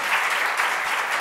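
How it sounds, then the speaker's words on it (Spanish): A brief burst of dense audience clapping at a film colloquium welcoming a director, loud and uniform from start to finish with no talking. "Entonces pido un gran aplauso para Laura Mora."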